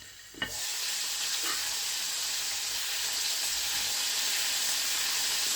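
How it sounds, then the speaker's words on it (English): Chicken pieces frying in a pot of hot oil for Jamaican-style fried chicken, a loud steady sizzle that starts abruptly and holds evenly, close up with no talk. "Frying away nicely."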